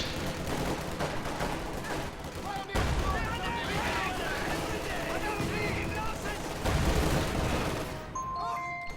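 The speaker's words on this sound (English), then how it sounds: "Stug doing the best it can, taking shots at stuff" StuG tanks fire repeatedly in a video game battle, their sharp shots and booms piling into dense, continuous gunfire layered over a busy battle din.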